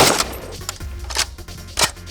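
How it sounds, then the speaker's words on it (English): A large-calibre rifle fired at a brick target gives a few sharp loud cracks with short echoing tails, close and spread across a brief span, with no talking. "I shot the brick."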